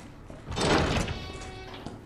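A door in Resident Evil 2 swings open with a muffled heavy thud and a low rumbling swell. The sound fades over about a second and ends with a faint knock.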